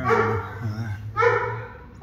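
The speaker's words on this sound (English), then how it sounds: "The dog being a dumb shit in the back." A dog barks and yips in the back of a vehicle parked in a shop, where a Toyota Tacoma sits up on a lift with its transfer case and drive shafts removed. There are two close bursts of barking over a low steady hum.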